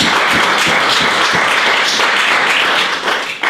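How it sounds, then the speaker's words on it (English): A church congregation at a homegroup service claps steadily and loudly together, a dense wash of hand claps throughout with a few sharper strikes early on, easing slightly near the end. "Can we clap our hands to God for the forgiveness of our sins?"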